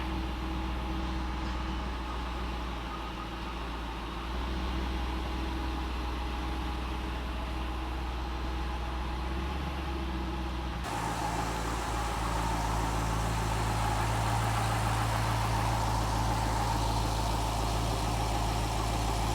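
Cadillac CTS-V engine idling steadily after a starter replacement, a continuous low mechanical hum that shifts slightly in tone partway through and stays close and even throughout.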